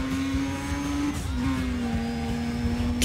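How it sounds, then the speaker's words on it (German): A steady, high-pitched Wankel engine drone from a car in Need for Speed ProStreet holds a constant note with slight pitch wobble, buzzing continuously and fairly loud throughout. "Oh, Wankelmotor. Oh, der klingt ja im Spiel richtig gut."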